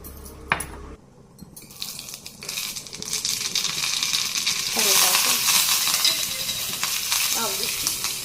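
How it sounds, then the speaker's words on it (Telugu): Tempering spices sizzle and crackle in hot oil for a roasted gram (putnala) chutney, a steady loud frying hiss with small pops that builds after a brief quiet start. "పోపు వేద్దాము."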